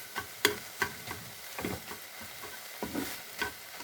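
A spatula scrapes and stirs vegetables and egg frying in a pan with little oil, giving a few short, sharp clinks and scrapes over a faint, quiet sizzle; no one speaks.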